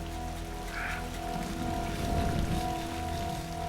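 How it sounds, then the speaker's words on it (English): Steady heavy rain pours down outdoors on a rocky landscape, a dense continuous wash of falling water that swells slightly louder toward the middle, with no voices. "The rain's getting harder and harder. You know, it's getting louder and louder"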